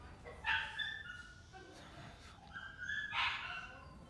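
Several dogs yip and whine outside in a city, high-pitched, excited cries in short bursts at moderate distance, faintly layered over background noise.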